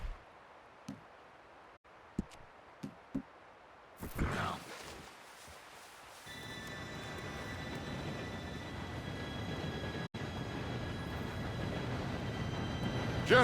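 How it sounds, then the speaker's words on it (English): A train approaching in Red Dead Redemption 2 arrives as a steady, building rumble that takes over after a few scattered clicks and knocks, with faint tonal squeals riding above it and growing louder toward the end. "Train should be here any minute."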